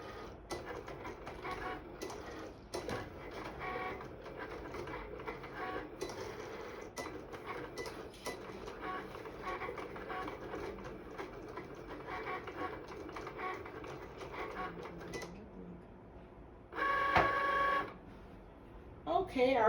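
A Cricut machine cuts craft vinyl with a steady, close mechanical whir and rhythmic ticking that runs throughout, ending in a brief louder beeping tone.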